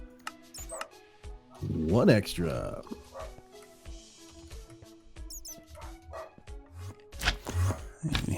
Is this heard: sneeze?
no